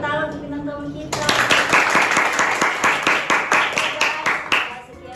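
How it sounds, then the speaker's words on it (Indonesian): A small group claps for a guest at the close of an Indonesian podcast, with distinct, fairly rhythmic hand claps following a brief moment of talk and continuing for about four seconds. "Kita berikan tepuk tangan untuk bintang tamu kita."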